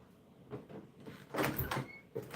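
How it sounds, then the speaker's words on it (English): Inside a skin spa, a door slides or swings open with a few soft knocks and a scraping rush that peaks midway, then a final light thud; quiet and fairly close, with no talking. "I believe I heard the door."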